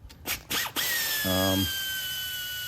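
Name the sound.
pneumatic air ratchet loosening nuts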